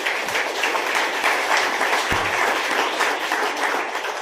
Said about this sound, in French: On nous acclame Jésus très fort.